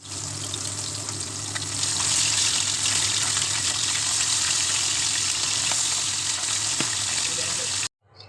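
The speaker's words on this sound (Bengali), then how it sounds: "এক সাইড এক দুই মিনিট ভেজে আর এক সাইডও এক দুই মিনিট ভেজে নেবেন" Steady, close sizzling of pabda fish frying in hot oil, a continuous dense hiss that cuts off abruptly just before the end.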